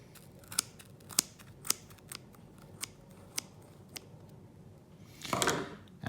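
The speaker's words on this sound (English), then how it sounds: "Snip it, and then just snip along the bottom here." Scissors snip yarn to cut fringe for a hand-knit sweater, with about eight sharp, separate snips spaced roughly half a second apart, close to the microphone, then a short rustle of the yarn at the end.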